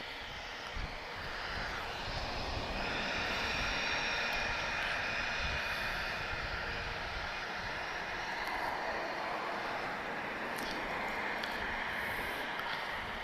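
British Airways airliner at Lisbon Airport, its engines giving a steady, broad roar that holds evenly throughout at moderate distance, with no voices.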